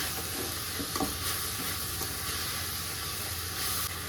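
Tomato and onion fry in a pan for a chicken fry with fenugreek, giving a steady close sizzle and hiss with a few soft stirring scrapes, and no voices.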